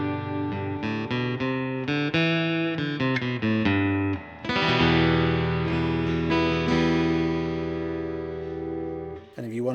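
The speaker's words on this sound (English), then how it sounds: "if I add a bit of room reverb" Fingerstyle acoustic guitar, an Enya X4 Pro carbon fiber, played with a room reverb effect, picked notes and ringing chords sustaining with a roomy tail, loud and close, fading out at the end.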